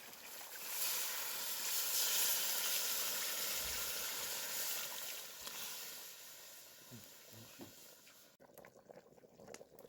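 Water poured into a kazan over browning chicken and potatoes, a loud sizzling hiss that rises quickly, holds, then fades out as the liquid settles, with no talk.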